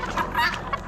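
Old English game bantams cluck briefly at an Amish auction, a short burst of close, soft bird calls.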